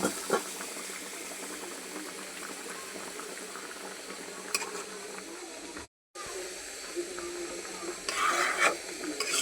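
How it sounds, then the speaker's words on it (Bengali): A pot of chicken curry with boiling water added bubbles and simmers steadily, with stirring noises on top, a brief drop to silence midway, and a louder burst of bubbling near the end. "এই যে আমি তরকারিতে এখন ঝোল দিয়ে দিছি"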